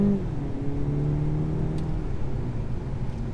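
Steady engine drone from a 2020 BMW 228i Gran Coupe accelerating hard, heard from inside the car, with rising harmonic tones over a constant road rumble.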